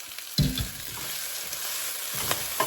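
Lentils sizzle and fry in a pan while being stirred and sautéed, with a soft steady hiss and a few scraping stir clicks up close.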